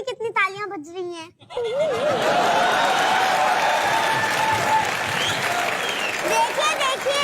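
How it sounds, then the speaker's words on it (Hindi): A studio audience on a comedy show, The Kapil Sharma Show, bursts into loud, sustained applause after a brief stretch of speech, the clapping filling the room and continuing steadily to the end. "देख भी रहे हैं मेरे लिए कितनी तालियां बज रही हैं।"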